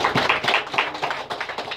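Church congregation clapping in brisk, fairly even rhythmic claps, close and lively, with no voices over it.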